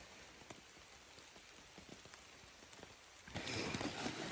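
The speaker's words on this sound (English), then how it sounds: "It's pouring with rain" Heavy rain patters steadily on a taut tent surface in remote woods, then suddenly intensifies into a loud, dense downpour, with no voices.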